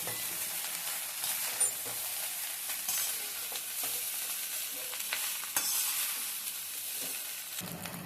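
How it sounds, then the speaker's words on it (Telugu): Egg cubes being fried in masala for egg cube fried rice, a steady broadband sizzle running the whole time with scattered stirring scrapes and clinks, close and fairly loud, no voices. "మంచిగా బాగా ఫ్రై చేసుకోవాలి మసాలా పట్టేంత వరకు క్యూబ్స్కి."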